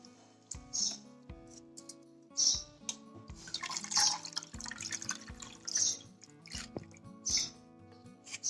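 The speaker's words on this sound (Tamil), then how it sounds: "மூணு டைம் நம்ம தண்ணி ஊற்றி கழுவிருக்கோம்" Samai millet rice is rinsed by hand in a vessel of water, with repeated close swishing splashes and drips in an uneven rhythm and no voices.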